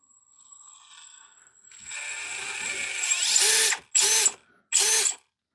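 Brushless motor of a Hobby Plus Arktos 6x6 RC truck whines at low speed, rising in pitch as it spins up, then two short bursts of high-pitched buzzing with brief pauses between, close by.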